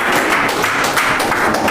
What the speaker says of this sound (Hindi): अरे ताली तो बजा दिया करो